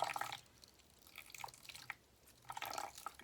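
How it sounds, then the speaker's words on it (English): Water drips and trickles from wet paper pulp pressed in a sifter during papermaking, in short irregular bursts of dripping and splashing that come and go, fairly close and soft, with no talking. "look how much water comes out of there"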